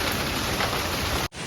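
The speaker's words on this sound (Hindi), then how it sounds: "तो बारिश तेज हो रही है थोड़ा बहुत अभी।" Heavy monsoon rain pours steadily over a grassy garden as a dense, loud hiss that cuts off abruptly near the end, with no voices.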